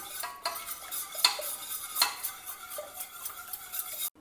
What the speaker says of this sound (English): Now mash the dal very well till it becomes smooth and creamy